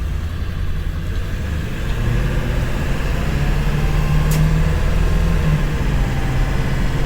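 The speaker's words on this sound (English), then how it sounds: "The sound of that diesel." A Ford truck's diesel engine runs at a steady idle, a loud continuous low rumble with a faint hum on top, close and unbroken, with no talk.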